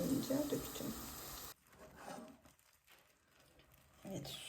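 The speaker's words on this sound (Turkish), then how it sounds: "süt ve su karışımını makarnanın üstüne döküyorum" A milk and water mixture poured onto pasta in a pan makes a close, steady liquid rush with faint sizzling. The pouring stops abruptly after a second and a half, leaving a quiet kitchen and a brief final splash.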